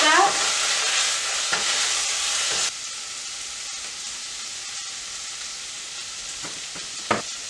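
Spices being stirred into turkey chili in a pot, a steady broadband sizzle and scraping of stirring carrying through, louder at first and then settling lower, with a couple of brief clinks near the end.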